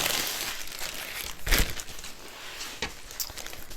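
A plastic bag protecting a diamond art painting crinkles and rustles continuously up close as it is handled, with a few sharper crackles along the way.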